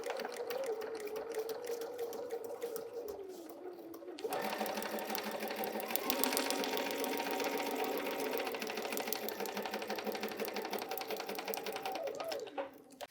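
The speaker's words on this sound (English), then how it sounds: "let's go sew this portion together" A sewing machine stitches fabric for foundation paper piecing, starting with a softer hum, then a close, steady, rapid mechanical whirring that runs on without pause.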